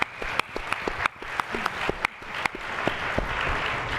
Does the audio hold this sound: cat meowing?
no